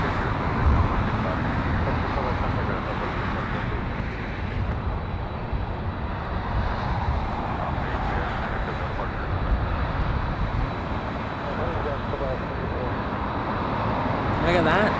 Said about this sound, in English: Nice takeoff there for the 777.